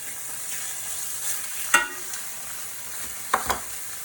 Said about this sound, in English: we're gonna sear them on one side so we see some color